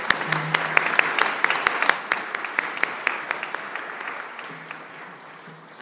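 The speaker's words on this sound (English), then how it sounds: "Big applause." A conference audience at an EU raw materials policy event claps after a panel, sharp individual claps standing out at first and then thinning and fading toward the end, with a brief voice at the close.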